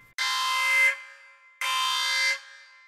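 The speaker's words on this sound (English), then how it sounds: "it's at this point that I will sound the alarms" Two loud, sustained electronic alarm blasts, each just under a second long with a short gap between them, harsh and buzzing.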